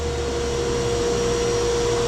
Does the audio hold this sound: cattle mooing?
no